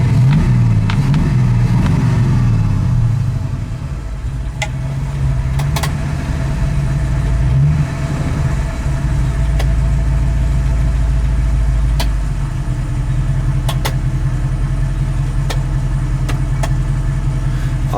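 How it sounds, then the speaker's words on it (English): A 1965 Ford Mustang coupe restomod idles steadily from the driver's seat, its low, even engine rumble loud and continuous with a slight rise and dip early on, and no talking. "Now that I'm sitting directly behind the wheel, we're idling about 600-700."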